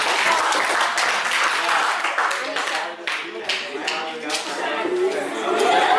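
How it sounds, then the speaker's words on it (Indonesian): Classroom applause follows a group presentation on social interaction at school, a lively spell of student clapping mixed with chatter and voices, dipping briefly midway before swelling again. "Iya, tepuk tangan."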